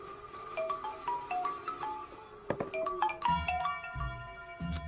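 A phone ringtone plays a bright, repeating electronic melody, rising in pitch and growing busier toward the end; no voices.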